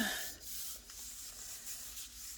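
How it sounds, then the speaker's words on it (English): A stencil is rubbed down onto paper by hand, making faint, soft brushing strokes in a quiet room, with a few gentle swishes repeating in an uneven rhythm and no speech. "Let's lay this down and give it a little bit of a rub."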